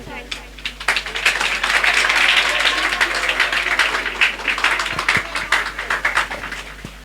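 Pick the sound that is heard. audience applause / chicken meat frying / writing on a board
audience applause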